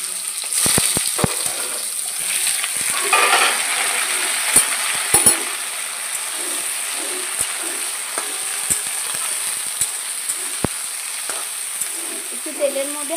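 Sliced ridge gourd and potato sizzling in hot oil in a wok over dried red chilli, a steady crackling hiss with scattered sharp clicks and utensil clinks throughout.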